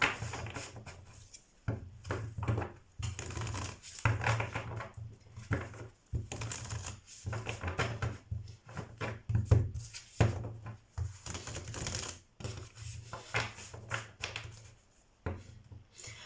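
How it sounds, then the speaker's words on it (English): Tarot cards are drawn out and handled, giving a busy run of close, dry tapping, sliding and shuffling clicks that carry on steadily with no talking. "So now I'm gonna pull out some tarot cards."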